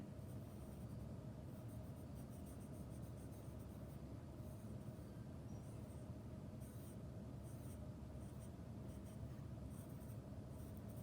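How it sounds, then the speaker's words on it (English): Pen or pencil drawing a bumblebee illustration on paper, a faint continuous scratchy stroking close up for about eleven seconds, with no talking. "So I'm gonna draw a bumblebee."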